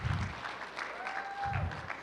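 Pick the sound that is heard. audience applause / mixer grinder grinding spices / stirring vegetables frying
audience applause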